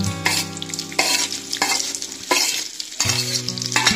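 Onion sautéing with chana dal and two green chillies in a pan for a red poha lunch box dish, a steady close sizzle broken by loud repeated scraping stir strokes, no talk.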